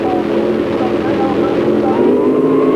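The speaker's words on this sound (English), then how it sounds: "There goes the RPM building up in the engines as they clear for the race." Drag racing engines, including a Trans Am, revving at the start line, a dense continuous engine roar with rising harmonic tones, loud and close, heard without talk.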